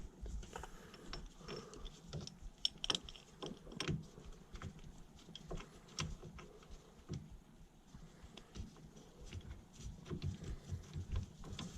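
Two bolts being screwed by hand into the threaded holes of a steering wheel puller on a big block Dodge Dart, a quiet run of small metallic clicks and ratcheting ticks scattered irregularly, close by and faint, with no talking.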